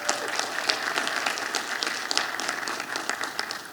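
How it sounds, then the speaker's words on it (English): A summit audience applauds the mayor with dense, even clapping at a steady moderate level, continuous for the whole stretch with no voice on top. "Let's give our mayor a round of applause"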